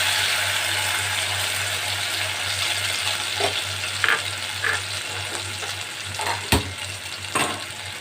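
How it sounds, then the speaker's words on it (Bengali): Ginger and tomato paste fries in hot oil with a loud, continuous sizzle, joined by occasional clinks and scrapes of a utensil against the pan over a low background hum. "এই যে তেলটা আছে সেটার মধ্যে আমি আদা টমেটো এই পেস্ট আমি দিয়ে দিলাম"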